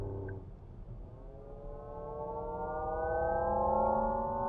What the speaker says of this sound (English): which is kind of your futuristic electric car noise